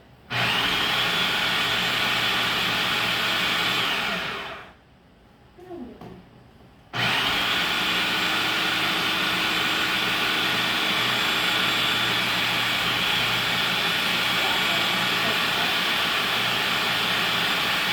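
A loud, steady food processor whir runs continuously, cuts out for about two seconds, then starts up again at full strength; no voices.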